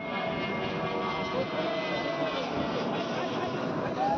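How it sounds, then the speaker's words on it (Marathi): Near Juhu Beach, an airplane passes overhead with a broad, steady engine roar under a mix of crowd noise and nearby voices. "प्लेन जा रहे हैं यहाँ"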